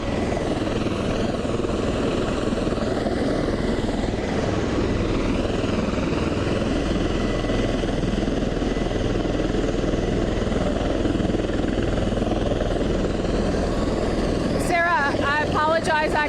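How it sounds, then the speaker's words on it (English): Loud, constant rotor and engine roar from helicopters waiting to depart with the president at Marine One, a steady heavy drone throughout with a brief sharper noise near the end. "As you can hear in the background, these choppers are loud"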